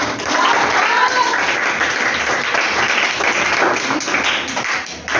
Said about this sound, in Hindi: तो ताली होनी चाहिए ना?